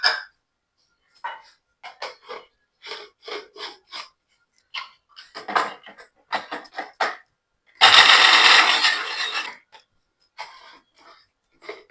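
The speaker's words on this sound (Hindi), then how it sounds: "अब बादाम भी हम इसमें डाल के ना इनको भी ग्राइंड कर लेते हैं।" Almonds and fennel seeds are ground in an electric kitchen grinder, heard as a single loud whirring roar of under two seconds that comes after a series of short, separate clatters and knocks.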